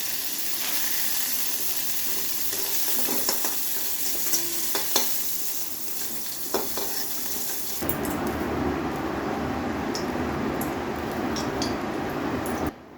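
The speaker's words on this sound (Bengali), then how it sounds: "ফুলকপিটা সুন্দর ভাজা হয়ে গেছে এখন আমি ফুলকপিটা তুলে নেব" Cauliflower pieces fry in oil in a home kitchen with a steady sizzle and stirring scrapes, then the hiss swells louder and harsher before cutting off abruptly.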